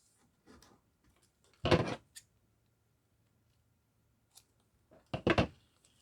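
Scissors snip through yellow polka dot paper in two short bursts of quick, close cuts separated by quiet pauses, with a few faint clicks between.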